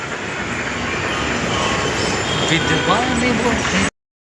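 A Mumbai metro train rumbling past at close range, a steady loud roar with faint squealing wheels, cutting off abruptly.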